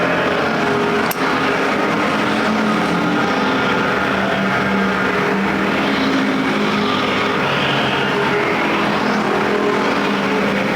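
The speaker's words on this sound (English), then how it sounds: "Now with the 2nd and 3rd place cars out of the way, can Stites chop down the huge lead of Jaramilo" American factory stock race cars running a main event at Perris Auto Speedway, a dense continuous engine roar that stays loud and steady throughout, with no talk.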